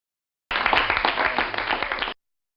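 A short, dense burst of applause from a small crowd, lasting under two seconds and ending abruptly.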